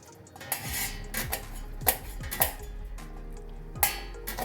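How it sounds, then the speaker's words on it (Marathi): Fresh Indian gooseberries (amla) are sliced into small pieces with a knife for an amla-chili pickle. A handful of sharp, close chops land at irregular intervals over a quiet background, with no talking. "कट करायसाठी दोन दोन असे छोटे छोटे कट करायचे अशा प्रकारे सगळे कट करून घ्यायचे"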